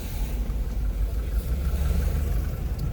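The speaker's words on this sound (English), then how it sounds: "Traffic, traffic, traffic." Evening street traffic in the Gambia: a continuous low engine drone, like nearby cars idling or passing slowly, steady for a few seconds with no speech.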